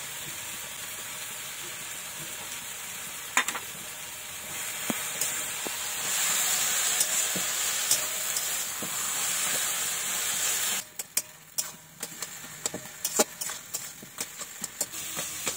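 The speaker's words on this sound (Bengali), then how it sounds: "তিন চার মিনিট ঢাকা দিয়ে আস্তে আস্তে জাল দেবো" Kochu shak with hilsa fish head cooking in a covered pan on low heat, a steady soft hiss of steam and simmering with scattered small pops and ticks, quieter and more clicky toward the end, no voices.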